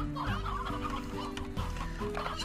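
Hens clucking in the video game Slime Rancher, several birds overlapping in a steady, close chatter of short clucks with continuous farm ambience and no talk.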